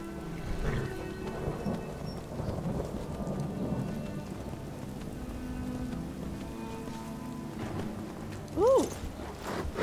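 A thunderstorm in the game Skyrim: continuous heavy rain hisses over a long, low rolling rumble of thunder, with a brief rising tonal chirp near the end.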